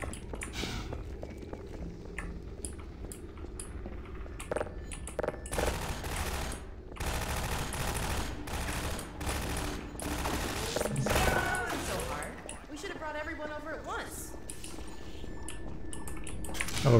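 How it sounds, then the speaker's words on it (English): Rapid automatic turret gunfire in the video game Half-Life 2: Episode One, bursts of fusillade rattling over game ambience with a voice talking intermittently. "There's a turret here."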